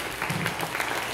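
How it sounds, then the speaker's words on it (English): A congregation at a Hebrew summit Sabbath service gives a short round of applause for the brothers who taught the classes, a brief burst of mixed clapping of moderate loudness. "give them a round of applause for teaching the classes"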